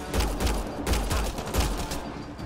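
Automatic weapon fire in Mass Effect Andromeda, a steady rapid burst of gunshots with deep thumping reports, fairly loud and continuous throughout, no talk over it.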